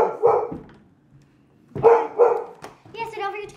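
A household dog barks in a few short bursts, fairly close, with people's voices mixed in around and after the barks in a home setting.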